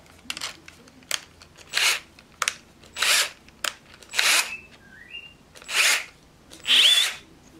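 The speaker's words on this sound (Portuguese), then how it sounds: "Escariando primeiro, ela vai ficar sem rebarba, vai ficar um encaixe mais perfeito na hora que for colocar o parafuso." A Bosch drill countersinks a hole in several short bursts, each high-pitched whirring spin lasting under a second and separated by brief pauses, loud and close with no speech.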